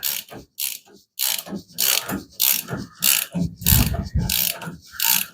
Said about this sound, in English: You snug them up with your ratchet like this.